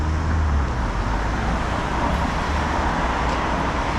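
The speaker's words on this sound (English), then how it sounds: "Fast moving traffic and slow moving motorcycle" Street traffic along a road in Macau, a steady wash of passing cars and a slow motorcycle, continuous moderate roadway rumble with no talk.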